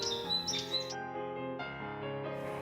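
Songbirds give alarm calls at a predator, a run of loud, sharp, repeated tonal chirps and harsh notes that carry on intensely without a break.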